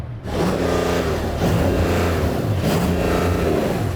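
A Porsche engine revs hard against its soft rev limiter, the loud, deep note rising and bouncing off the limiter in repeated surges for several seconds.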